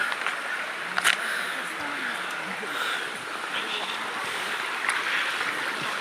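Water from a forest waterfall at Penchalakona runs and gurgles beneath rocks, a steady, fairly faint rushing wash with a few sharper splashes and soft voices in the background.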